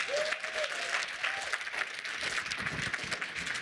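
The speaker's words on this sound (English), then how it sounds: "You could have clapped longer" Audience applause in a conference talk hall, a dense steady wash of many hands clapping from start to finish, with a brief whistle or cheer near the start.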